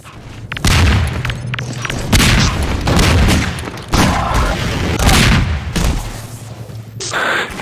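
Rocket launcher explosions in Half-Life 2 Deathmatch, several loud booming blasts in quick succession, close and heavy, with a dense layer of gunfire and game action running underneath throughout.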